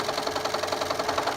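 A sewing machine stitching the lining of a zipper case runs in a fast, even mechanical rattle of needle strokes, close and steady for a brief burst with no talk.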